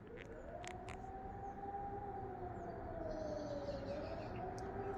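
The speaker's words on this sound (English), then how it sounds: "In about a few seconds, I believe, we shall hear the siren." A Swiss civil defense emergency siren, tested as a general emergency and flood alarm, wails from down a valley in a slow rising and falling tone, distant and faint, with birds chirping nearby.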